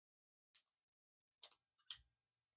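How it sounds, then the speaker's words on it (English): A few quick, sharp snips of scissors cutting open packs, faint and close, with silence between the short cuts and no talking. "I like to cut the packs open instead of tearing them because I like for it to be nice and neat"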